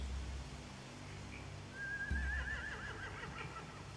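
A horse whinnies once in The Walking Dead video game, a rising then wavering neigh that sounds moderately close over a quiet low ambient bed, with a soft thump just before it.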